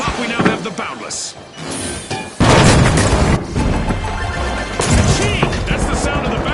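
A completed cash out in The Finals video game, a loud chaotic burst of booming impacts, crashes and gunfire-like bangs with a sudden surge midway, under an announcer's voice.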